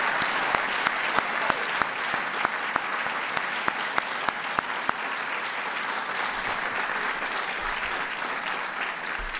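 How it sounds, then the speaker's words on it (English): An audience applauds at a Special Olympics celebration event with President Obama, steady dense clapping filling the room, with a few sharper single claps standing out early on. "Please give Ricardo a big round of applause."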